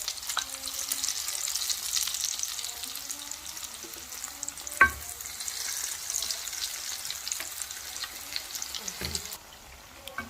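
Koose, Ghanaian akara bean fritters, frying in hot oil with a steady, fairly quiet crackling sizzle and occasional clinks and knocks of a utensil, no voices over it.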